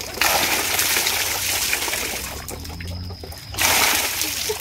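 Heavy rainwater pours and splashes loudly and continuously from a leaking roof of a house, with a brief quieter lull partway through before the torrent surges back up close by.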